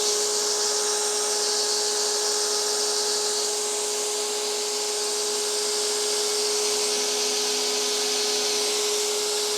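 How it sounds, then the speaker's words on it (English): A grinder running a surface grind on a steel dagger blade in a cold workshop, a loud continuous high-pitched whine with a steady tone and no pauses. "So first I'm going to do just kind of the surface grind, just to clean up the surface here a little bit."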